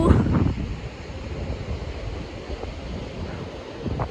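Surf washes over a rocky mussel-gathering shore abroad, with a heavier wave burst at the start, then a steady hissing wash mixed with wind buffeting the microphone.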